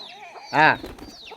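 A farmyard chicken lets out one loud, close cluck-like call amid a quieter backdrop with faint bird chirps, where ducks and pigeons are also kept.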